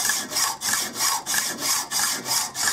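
A hacksaw cuts through a bolt in a garage with steady, evenly paced back-and-forth strokes, about three per second, a close, loud rasping scrape.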